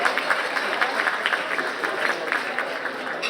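A crowd applauds steadily, dense clapping filling the room throughout without pause.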